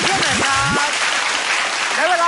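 Crowd cheering and applauding at a Thai children's game show, a broad steady roar with whistles and shouts filling the stretch, near and loud.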